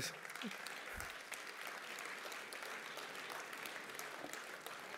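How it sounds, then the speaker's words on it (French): Faint, distant applause rolls through a party congress hall during a closing political speech, a soft, steady clatter of many hands that continues evenly throughout, with a low murmur of voices beneath it. "vous avez le droit d'applaudir là"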